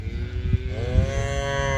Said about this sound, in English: the cattle are already used to it and like coming in here to eat